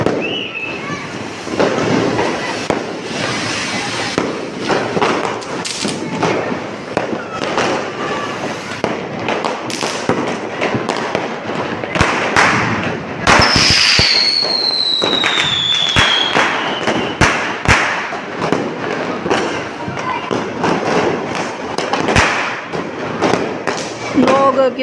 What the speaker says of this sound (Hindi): लोग कितने पटाखे बजा रहे हैं।